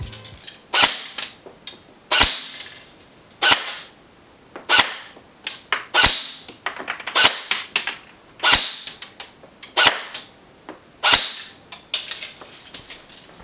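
A JG Snow Wolf M99 airsoft electric sniper rifle fires 0.2 gram BBs through a chronograph: a steady series of sharp, close, loud snapping shots, roughly one every second, with no talking.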